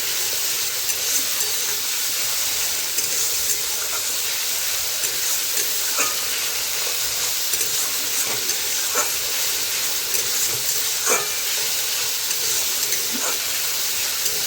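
Spice paste frying in oil in a pan for egg curry, a steady broadband sizzle with occasional stirring scrapes and pops, close and continuous with no talking.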